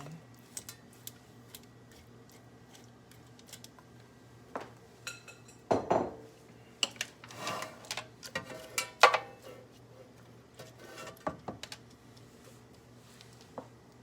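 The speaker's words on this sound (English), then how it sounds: "So here I have the air fryer right there. I'm just gonna put the shrimp in." Raw shrimp for Jamaican jerk shrimp being placed into an air fryer basket: scattered light clinks, taps and soft rustles close by, coming in short irregular bursts with no talking.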